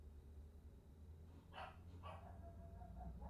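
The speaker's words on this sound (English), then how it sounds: "My bad about the dog" A dog barks twice in short bursts partway through, fairly close, over a steady low background hum, with no talking.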